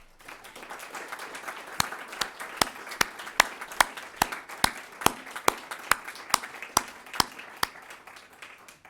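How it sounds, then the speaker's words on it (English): Audience applause at a Veterans Day celebration, heard as a soft murmur of clapping with sharp, evenly spaced claps standing out near the microphone and growing through the round. "Could I ask for a round of applause?"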